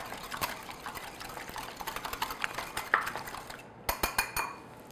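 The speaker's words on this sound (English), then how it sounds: "just with a whisk, or you can use a fork, just break it up" An egg beaten with a whisk in a bowl for brioche glaze: rapid, rhythmic metallic clicking and scraping against the bowl, close and fairly quiet, then a few sharper separate taps.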